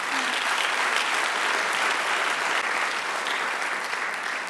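Sustained applause from a large church congregation, dense and even, holding steady throughout before easing slightly near the end.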